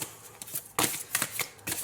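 Tarot cards are shuffled and drawn, giving quick papery riffles and slaps in short bursts, close and crisp with brief pauses between.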